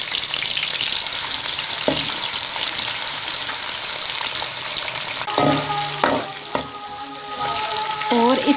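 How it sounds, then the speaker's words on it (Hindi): Onions frying in hot ghee for a green chickpea and potato curry, a steady broadband sizzle throughout with a few louder crackles and stirring knocks toward the end. "अब हम इसके अंदर प्याज डालेंगे और इसको लाइट ब्राउन"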